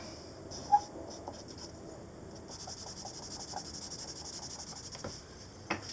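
Faint, soft scratching of a soft graphite drawing pencil moving across paper in short rhythmic strokes, quiet and close, with a couple of small taps.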